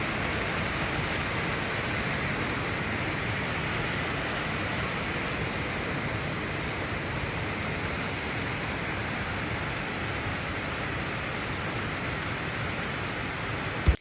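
Heavy torrential rain after a storm, a dense, steady hiss of downpour that holds at an even level for the whole stretch, with no voices.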